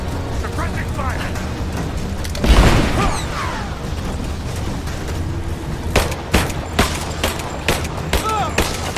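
Gunfire rattles in the video game Rise of the Tomb Raider. A sharp burst of shots is followed by a run of distinct, punchy reports later on, with shouted voices and mechanical clatter in between.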